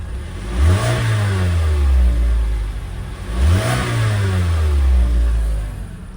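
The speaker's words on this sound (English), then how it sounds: "Now it's time for me to give it a few revs. It is warmed up. That way you can hear the engine." Two revs of a warmed-up 2016 Mazda CX-5 engine heard from the rear, each rising quickly, holding, then sliding back down to a low idle rumble, close and fairly loud with no voices.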